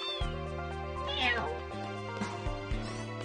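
A cat meows in Final Fantasy VIII, a couple of short, bright mews heard over steady game music and voiced dialogue.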